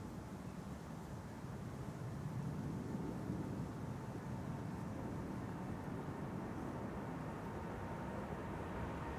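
An American Airlines jet departing from Schiphol's Kaagbaan runway gives a faint, distant, steady roar with no one talking.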